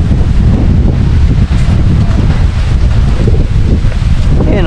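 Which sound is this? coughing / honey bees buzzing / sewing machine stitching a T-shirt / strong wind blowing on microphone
strong wind blowing on microphone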